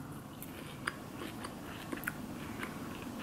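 Homemade crunchy kale chips are bitten and chewed close up, with a few sharp crunches standing out over a soft, steady background hiss.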